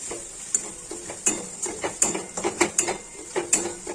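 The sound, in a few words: mixing Kashmiri chilli powder into chicken curry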